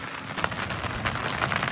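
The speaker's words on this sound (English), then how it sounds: "it's still raining" Rain falls at the Niagara Grand Island KOA campground near Niagara Falls, New York, as a dense, steady hiss of drops on surfaces, close and unbroken for a brief moment.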